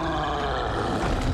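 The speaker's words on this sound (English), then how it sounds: "Oh, there's another troll here." A troll in the video game Hogwarts Legacy lets out a rough, growling roar that rumbles continuously for over a second, loud and close amid dense game sound.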